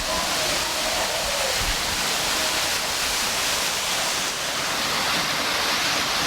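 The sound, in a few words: waterfall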